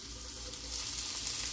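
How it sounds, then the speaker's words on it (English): Butter sizzling in a pan for a budget Philly cheesesteak, a steady close hiss of frying with a low rumble underneath, no voices. "put down a little butter"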